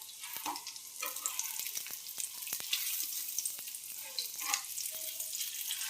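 Oil heats and fries in a pan on a home stove, a quiet crackling sizzle with scattered sharp pops and spits spread through the sound, nearby, without talk.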